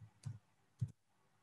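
Two soft computer mouse clicks, close and quiet, about half a second apart, over faint room hum.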